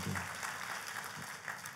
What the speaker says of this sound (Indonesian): Tepuk tangannya pula yang paling meriah buat Tuhan.